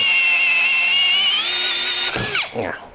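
A MASARU cordless power drill whines at steady high speed for about two seconds, then slows and winds down in a couple of falling dips, loud and close.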